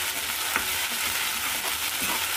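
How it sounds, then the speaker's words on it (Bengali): Ginger, cumin and green chili stirred and fried in a pan, a continuous close sizzle broken by soft scrapes of the spoon at an unhurried pace. "আর দিয়ে দেবো আদা জিরে কাঁচা লঙ্কাটা একটু নেড়ে নিই"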